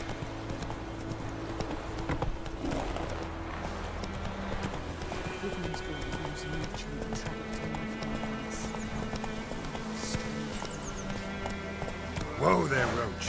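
Rhythmic hoofbeats of the horse Roach galloping in The Witcher 3, a quick, steady clip-clop with a snort or whinny near the end and a person talking over it.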